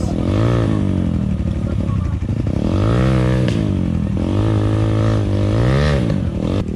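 A trail motorcycle revving hard on an off-road trail, loud and close, with the engine note repeatedly climbing and falling in aggressive bursts under constant rumble.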